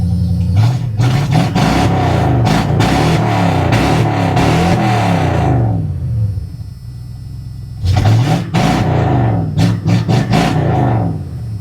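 A loud, close 1986 Ford F-150 pickup engine runs with a rough, uneven, hesitating idle, dipping briefly in the middle before surging back with a pulsing rumble.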